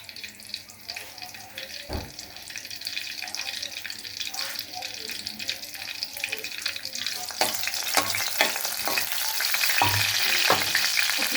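Dried red chillies torn into soybean oil crackle and sizzle in a pan, a steady bright frying hiss with scattered sharp pops and a few louder clinks, growing slightly busier toward the end.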